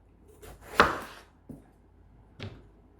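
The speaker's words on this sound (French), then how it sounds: "On coupe l'aubergine en deux." A knife slices an eggplant in half, giving one sharp, close chopping thud followed by two softer knocks against the board, with no talking.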